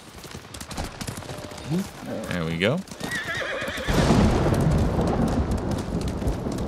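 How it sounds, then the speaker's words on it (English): A horse in the samurai video game Ghost of Tsushima answers a call with a loud whinny, then its hooves pound into a gallop over a steady wash of rain and rumbling thunder, while a voice speaks briefly. "Can we call the horse as well?"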